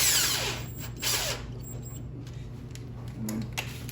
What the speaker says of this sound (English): If you have an impact like this, but don't use the impact to tighten them